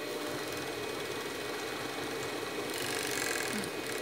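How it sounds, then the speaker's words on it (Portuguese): An overlock sewing machine seams one side of a pair of cotton panties, giving a continuous fast mechanical whir with a steady rattling stitch rhythm at moderate loudness throughout. "Vou fechar aqui no overlock, ó, fechar um lado."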